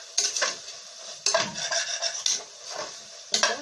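Curry leaves go into a pan for tomato rice and get stirred with a metal spoon: four sharp scraping clatters of utensil on pan, each followed by a softer rasping stir, close and clear with no talk.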